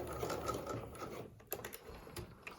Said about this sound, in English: we're going to back stitch